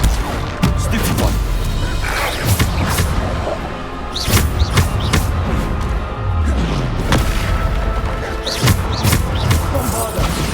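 Repeated Bombarda spell blasts in the Hogwarts Legacy game, heavy booming thuds recurring every second or two amid combat clatter, with shouted voices in between.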